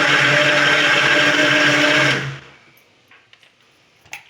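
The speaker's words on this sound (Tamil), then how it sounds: "தக்காளி அடிக்கிறாங்க. தக்காளி பேஸ்ட்." A kitchen blender whirs loudly and steadily while grinding tomatoes into paste, then cuts off about halfway, leaving a quiet room with a few faint clicks and knocks.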